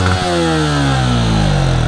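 A 2021 Yamaha Sniper 155 motorcycle runs close by, its exhaust pipe giving a loud, steady engine note that drifts slightly downward in pitch over about two seconds, with no voices over it.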